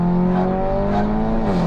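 A lowered Seat Leon Cupra with a DSG gearbox, driven in full manual mode on a rally outing, its engine droning loud and steady with a slight rise and dip in pitch.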